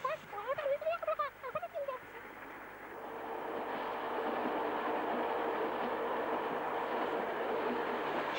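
A train runs along rails, its low, steady rumble building after a short stretch of spoken voice and then holding loud and continuous to the end.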